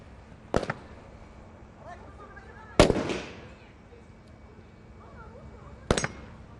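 Three sharp gunshots spaced a few seconds apart at an outdoor SWAT shooting challenge, each loud crack followed by a short echoing tail, with a voice talking faintly in the background.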